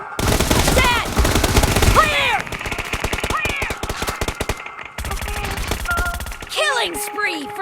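Heavy weapon gunfire in the mobile shooter PUBG Mobile during a team deathmatch: dense, rapid bursts of loud shots crackling almost nonstop, with short pauses between volleys.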